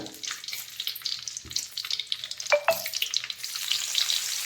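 Mustard seeds splutter and pop in hot oil, with a dense, crackling sizzle running throughout and a few sharper snaps standing out near the middle.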